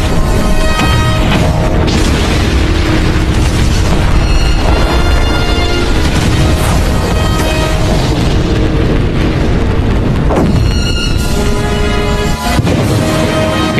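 A huge explosion on Earth in a Dragon Ball anime film: a loud, sustained roaring blast with crashing rumble that stays dense and powerful throughout, with surges of debris-like crackle and no speech.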